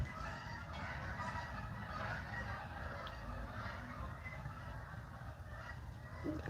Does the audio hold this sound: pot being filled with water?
no